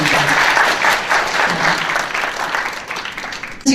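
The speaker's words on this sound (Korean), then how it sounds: "먼저 여기 계신 패널 7분을 위해서 한 번 더 격려의 박수 부탁드립니다." Audience applause for a seven-member panel at a political debate forum in Korea, loud and sustained clapping from a crowd that fades slightly before cutting off at the end.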